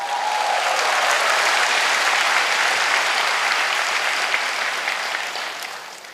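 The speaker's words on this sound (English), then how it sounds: "Give yourself a big round of applause." An audience gives a big round of applause at a motivational seminar, dense steady clapping that swells quickly and holds strong for several seconds before tapering off toward the end.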